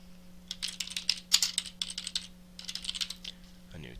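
Typing on a computer keyboard, rapid bursts of light, crisp key clicks in several runs with brief pauses, close and moderately loud over a steady electrical hum, with a short voice at the end.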